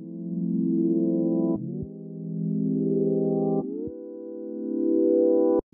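Reversed electric piano chords chopped into a build-up effect for a deep house track: three swelling sustained chords, each rising in loudness and cutting off abruptly, alone and clean with no voices.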